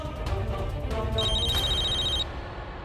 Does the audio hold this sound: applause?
no